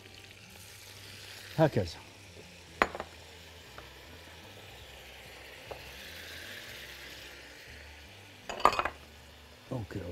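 Osso buco meat sizzling in a frying pan as it is turned over, with steady frying hiss and a few sharp clinks of utensil against the pan, plus a brief spoken word.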